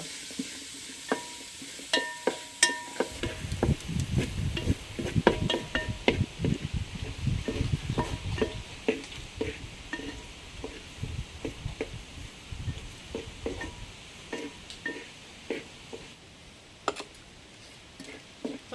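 Shallots and onions sautéing in a pan for chicken curry, a soft sizzle under repeated clicking and scraping stirring strokes that come thick at first and thin out toward the end, with no talking.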